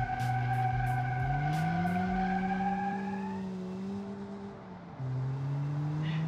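A Zaz 1102 Tavria with a 1.1L engine in a driving simulation spins one rear wheel, the engine note climbing and holding while the tire squeals continuously and then settles.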